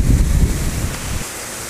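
Gusty wind buffets the microphone in low, rumbling bursts outdoors at a pond on a cold day, loud at first and then easing to a steadier background rush.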